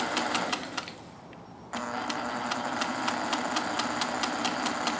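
A Singer 201K sewing machine with a 240-volt motor, set in a mid-century sewing table, runs with a smooth, rapid, even ticking. It pauses briefly, then restarts and picks up to a steady, quiet hum of stitching, with no voices.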